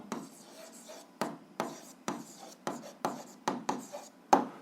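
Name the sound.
writing down an answer by hand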